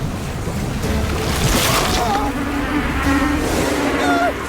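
A steady insect-like drone, like buzzing bees, swells in partway through and holds over a noisy, splashy outdoor background with a few faint high chirps.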